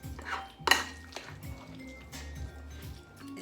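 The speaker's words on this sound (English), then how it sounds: "Have it all stirred together very well." Potato salad stirred in a bowl for Southern-style potato salad, with soft scraping and clinking of a utensil against the bowl, one sharper clatter near the start, close and moderately quiet.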